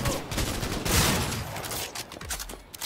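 Gunfire from a gun in the video game Cyberpunk 2077, a dense burst of rapid shots that swells to a loud peak near the start and then keeps crackling on at steady volume.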